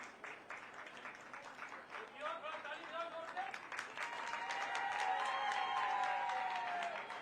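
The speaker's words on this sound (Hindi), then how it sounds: "तालियां, तालियां" A crowd applauds at a state-level International Yoga Day ceremony attended by Chief Minister Nayab Singh Saini. Scattered clapping runs under a speaker's amplified voice, then a steadier stretch of applause follows with sustained tones.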